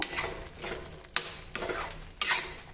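Tomato chutney sautés in oil over a slow flame while a ladle scrapes and knocks against the pan in a steady rhythm of strokes about every half second, with a light sizzle underneath.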